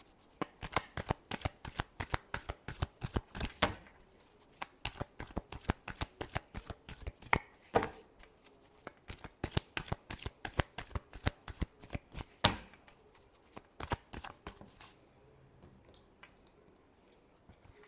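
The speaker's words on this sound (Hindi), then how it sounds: "चलिए लास्ट बार शफल करते हैं।" Tarot cards being shuffled by hand, a long run of rapid riffling flutters and soft card slaps in steady bursts, close and clear, with no talking.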